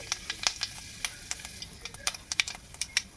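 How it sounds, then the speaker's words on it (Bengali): Panch phoron whole spices crackle and spit in hot mustard oil, a rapid scatter of sharp pops and sizzles over a low frying hiss, close and fairly quiet, with no talk. "তেলটিকে ভালো করে গরম করে নেব নিয়ে দিয়ে দিচ্ছি পাঁচফোড়ন"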